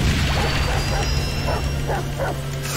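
A cartoon dog sound effect from a dog kart in the KartRider racing game, several short yapping bow-wow barks over a steady game engine hum and music bed.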